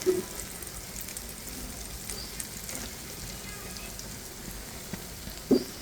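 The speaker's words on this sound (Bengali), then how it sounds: "খুব সুন্দর করে উল্টে পাল্টে ভেজে নিচ্ছি" Pumpkin flower fritters deep-frying in oil: a steady, dense sizzle like light rain running throughout at moderate level, with a couple of faint knocks near the start and end.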